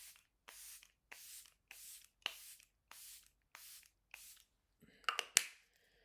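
About eight short, sharp hissing sprays of Charlotte Tilbury setting spray in a steady rhythm, close and quiet, followed by a few soft clicks and rustles.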